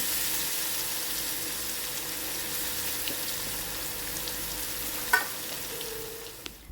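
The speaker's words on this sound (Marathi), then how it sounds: "आता हे छान तेलामध्ये मी परतून घेते" Garlic-coriander spice paste frying in oil for a jitada fish gravy, a steady soft sizzle with a faint stir click near the end, no voices.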